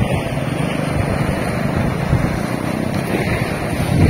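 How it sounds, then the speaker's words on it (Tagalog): Strong sea waves wash onto the shore at Guimbal, Iloilo, a steady broadband roar with surf rumble and gusty wind buffeting the microphone throughout, loud and continuous with no voices. "Yung malakas ang alon ngayon, no?"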